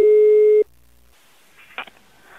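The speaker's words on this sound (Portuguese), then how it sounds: "Chama, vou ver se pega a mamãe, a Denise." Telephone line tone during a call: a single steady electronic tone lasting about half a second, followed by a quiet line with a faint click and a short buzz.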